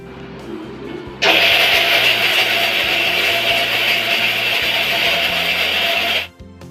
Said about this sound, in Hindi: तो अब हम इसको एक ग्राइंडर जार में डालेंगे और इसका एक बारीक पाउडर